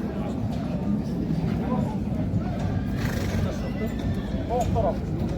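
Pregnant mare at a horse livestock market in Taraz, with neighing and hoof clip-clop among steady crowd babble and people talking nearby.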